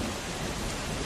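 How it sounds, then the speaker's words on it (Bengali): Heavy rain pours outside in a dense, unbroken hiss, a broad steady wash of sound that stays constant and fairly loud with no voices or gaps. "ওই আবার বৃষ্টি এলো।"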